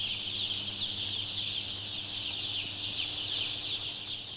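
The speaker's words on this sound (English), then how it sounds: "Chickens are by nature social, curious, and intelligent animals." A dense flock of factory-farmed chickens clucks and chatters continuously at a steady level, with a constant mechanical hum from the barn underneath.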